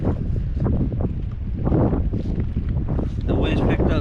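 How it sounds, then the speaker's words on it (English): Strong wind buffets the microphone on Braunig Lake during kayak fishing, a steady loud roar with gusts, mixed with water and boat noise while someone talks over it. "The wind's picked up super bad."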